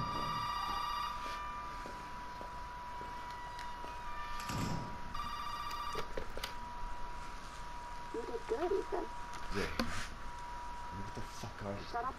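A phone rings in GTA V Online, a repeating electronic ringtone sounding over steady game background noise and other in-game effects.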